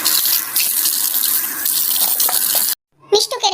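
Water running steadily from a tap while someone washes their face, a close, broad rushing flow that stops abruptly near the end, followed by brief splashes and soft sounds.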